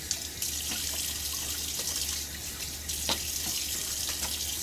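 A bathroom tap runs steadily for a partial rinse of a Gillette Slim safety razor, a soft continuous stream with a few brief clinks and splashes, close by and with no one speaking.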